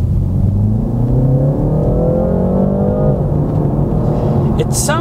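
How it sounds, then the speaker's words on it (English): A BMW 330i in sport mode drones and rises through the revs, its exhaust note swelling loud and steady before easing off near the end. "Sport mode, which changes the exhaust note entirely"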